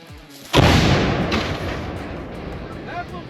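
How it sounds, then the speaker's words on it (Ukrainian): A cannon fires a single loud, close blast that then rolls and decays over a few seconds, with faint crackles near the end and no talk over it. "Гармата!"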